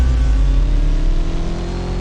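Game engine roar of a Koenigsegg Gemera drag racing in CSR2 with a max stage 5 tune, a loud steady low drone with layered harmonics holding throughout, no talk.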